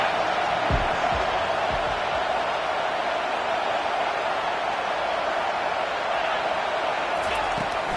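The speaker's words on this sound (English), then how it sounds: "Decibels rising as the crowd gets behind this defense on 3rd down." Football stadium crowd roaring steadily on a third down during a Michigan–Oklahoma game, a dense continuous wall of cheering that stays loud throughout, with a few thumps near the start.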